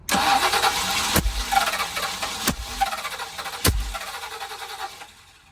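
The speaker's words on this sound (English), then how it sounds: "What in the world is it popping out of the front?" A car engine cranks and starts with loud popping backfires from the front, out of timing, three sharp bangs over a rough running engine that fades near the end.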